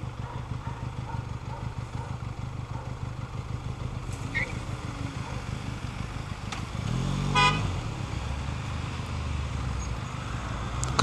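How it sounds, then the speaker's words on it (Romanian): A car horn honks in city traffic, sounding a loud burst over the steady hum of road noise and nearby engines. "De ce mă claxonezi?"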